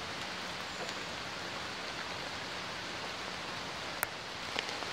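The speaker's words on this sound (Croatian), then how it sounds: "Kiša i dalje pada." Steady rain falling in a forest, a continuous soft hiss of drops on leaves and ground with a couple of sharper drip ticks near the end, moderately quiet and with no voices.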